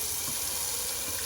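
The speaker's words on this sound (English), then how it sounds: "I'm going to do a cold water rinse or whatever is left of the cold water" Cold tap water runs steadily from a faucet into a bathroom sink during a shave, a close, continuous broadband rush with no talking.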